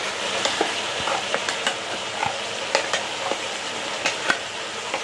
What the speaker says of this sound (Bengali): ঢাকনাটা খুলে নাড়াচাড়া দিয়ে দেব।